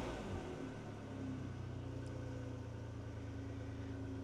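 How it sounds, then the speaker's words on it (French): Ferrari 456 GT from 1995 with a 5.5-litre 65-degree V12 and six-speed manual gearbox, idling steadily after starting, a deep continuous engine drone with a brief rise near the start, close and alone. "je vais vous la démarrer puisque je pense que c'est quelque chose que vous attendez tous, de démarrer ce fameux moteur V12"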